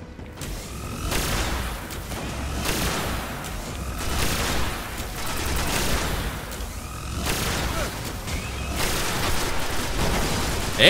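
Gunfire from the video game Destiny crackles in repeated sharp bursts about every second or two, steady and moderately loud over continuous game background noise.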